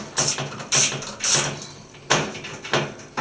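Metallic clicks and ratcheting of a 5/16 screw being loosened on the baffle of a Maytag Atlantis dryer drum, several separate bursts spread over a few seconds, close and fairly loud.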